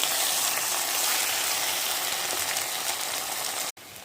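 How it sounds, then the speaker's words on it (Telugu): Mushrooms sizzle in a pan with onions and ginger garlic paste for a home mushroom curry, a loud steady frying hiss close by that cuts off abruptly near the end before resuming briefly. "ఇప్పుడు దీంట్లో మనం మెయిన్ ఇంగ్రీడియంట్ మష్రూమ్స్ వేసేసుకుందాము"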